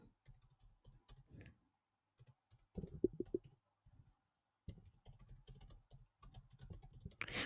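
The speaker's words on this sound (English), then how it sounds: "I'll type into the search bar" Typing on a computer keyboard into a search bar, with quiet close key clicks coming in irregular bursts and short pauses and a slightly louder flurry near the end.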